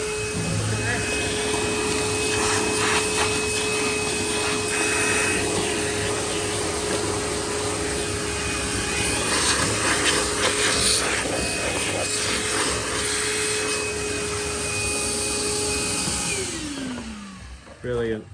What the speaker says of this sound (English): I'll just fire the hoover up.